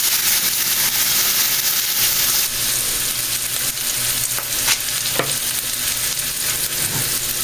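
Fat renders from meat frying in a pan at home, a steady loud sizzle with stirring scrapes and occasional clinks throughout.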